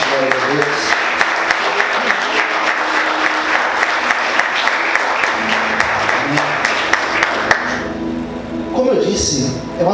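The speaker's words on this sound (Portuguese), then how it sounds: "Você pode aplaudir Jesus bem forte" Congregation at a church service applauding loudly, dense sustained clapping that fades toward the end as voices and other sounds come through.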